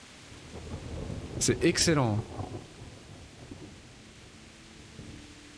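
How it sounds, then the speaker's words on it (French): Rain and thunder in the medieval video game Kingdom Come Deliverance: a loud rumbling thunder burst near the start, then steady, fairly quiet rain hiss under a brief spoken remark. "regardez, la pluie est vraiment en diagonale"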